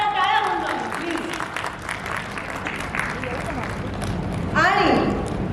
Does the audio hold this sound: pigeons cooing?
no